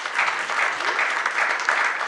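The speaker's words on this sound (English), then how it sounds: "I wanted to ask you to get a round of applause for our panelists" An audience at a European music conference panel session applauds the panelists with steady, dense clapping that holds at an even level throughout the short stretch.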